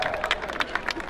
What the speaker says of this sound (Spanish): ¡Fuerte el aplauso que se oiga!